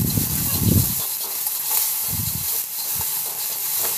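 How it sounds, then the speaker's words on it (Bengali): Ginger paste hisses and sizzles in oil in a wok, the frying steady and close throughout, with a few low stirring knocks beneath. "এবার আদাটা খুব ভালো করে কষিয়ে নিচ্ছি।"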